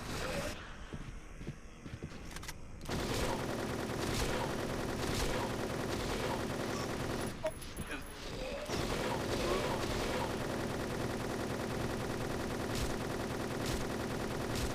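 Sustained rapid submachine gun fire in the Silent Hill 3 final boss fight, loud dense bursts nearly continuous with a brief pause, mixed with game sounds and occasional talk.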